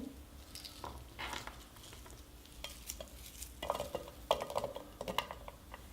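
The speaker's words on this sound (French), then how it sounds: "Dans une petite poêle, je vais mettre un peu d'huile d'olive, environ 1 cuillère, placer ma gousse d'ail" A garlic clove frying in a spoonful of olive oil in a small pan, a quiet sizzle under soft clinks and scrapes of a utensil against the pan, nobody speaking.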